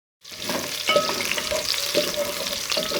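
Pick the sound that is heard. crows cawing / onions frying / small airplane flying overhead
onions frying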